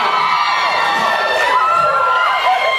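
A large crowd screams and cheers loudly and continuously, with high-pitched shrieks and whoops rising over the steady roar.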